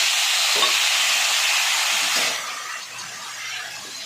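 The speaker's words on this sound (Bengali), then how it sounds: "তেজপাতা, জিরে, লঙ্কা ফোড়ন দিয়ে আলুগুলো সব ভেজে নেব।" Potatoes frying in hot oil with bay leaf, cumin and chili, a loud close sizzle that drops to a softer crackle after a couple of seconds.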